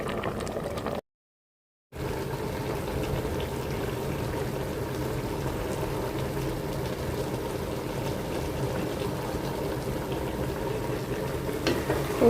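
A pot of mixed vegetables simmering with bay leaf, coriander, turmeric and chili powder, giving a steady close bubbling boil that runs unbroken apart from a brief dropout near the start, with no voices.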